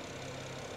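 A BMW N54 engine fitted with new spark plugs, idling smoothly on a warm restart, with a steady, even hum and no speech over it.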